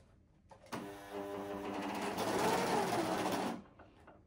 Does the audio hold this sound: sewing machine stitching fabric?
yes